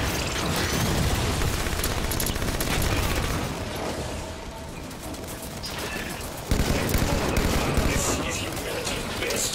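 Incineration cannon blasts in the Halo video game amid loud, dense gunfire and explosions, heavy bursts continuing throughout with a brief lull midway before another loud blast.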